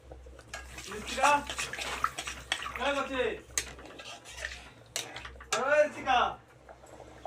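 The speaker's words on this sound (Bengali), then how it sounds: "এবার আমি পরিমাণ মতন জল দিয়ে দেব" Water goes into a pan of fried masala for paneer curry, splashing and sizzling with clinks of a utensil against the pan, close by, while someone talks over it.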